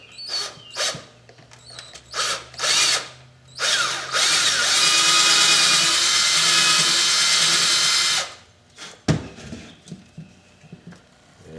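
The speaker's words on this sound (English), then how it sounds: "And then we'll just drill that hole right there." A power drill whines in several short bursts, then runs continuously for a few seconds before stopping, followed by a few clunks.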